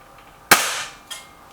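Hatsan 900x break-barrel air rifle fired once, giving a single sharp, loud crack that decays quickly, followed a moment later by a fainter second click, with no talking.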